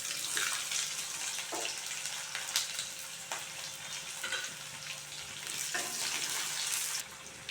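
Steady, loud sizzling of dried red chilies frying in hot oil, with crackling pops and occasional stirring scrapes throughout.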